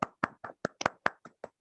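Eight separate sharp hand claps in an uneven rhythm, close and fairly quiet against silence, from a few people welcoming a speaker at an online business talk.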